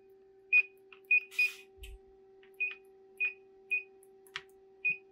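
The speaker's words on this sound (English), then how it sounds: "You press the button a second time and you can put it into continuity mode." A handheld oscilloscope multimeter, the Allosun EM1230, emits short, clear beeps in continuity mode. About seven separate chirps sound in an irregular rhythm against a quiet background with a faint steady hum.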